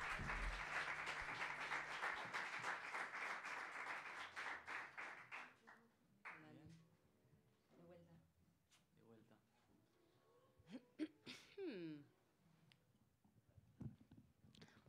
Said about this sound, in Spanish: Quiero invitar ahora a Paz Díaz Pachi. Pedir un fuerte aplauso también.